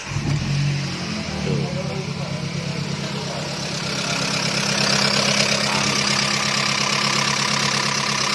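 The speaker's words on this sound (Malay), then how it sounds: "engine Kempro ni, dia ada bunyi-bunyi biasanya pada mangkok valve ataupun valve tepet" A Proton Campro car engine starts and runs rough, its uneven idle carrying a continuous clatter from the valve lifters that stays loud and close throughout.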